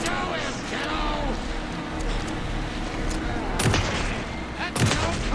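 Gunshots in the video game Alan Wake II crack out sharply twice amid a dense, noisy game soundscape, with voices talking over the action.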